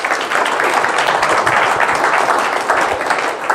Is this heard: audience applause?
yes